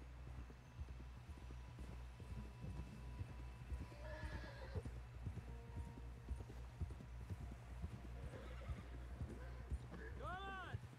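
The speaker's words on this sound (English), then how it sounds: "Someone help John down off this horse." Horse hooves clip-clop at a quick, steady gallop in the video game Red Dead Redemption 2, with a couple of whinnies near the middle and end while voices talk over the hoofbeats.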